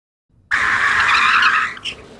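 A designed van skid with tire squeal bursts in after a faint lead-in. The shrill, sustained screech holds close and loud for over a second, then tapers with a brief wobble as the van stops.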